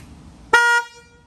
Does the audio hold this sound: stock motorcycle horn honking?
yes